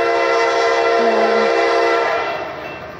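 A Norfolk Southern double-stack freight train rolls by at Elmer, Missouri, sounding a loud, sustained multi-tone horn blast up close that fades slightly as it passes.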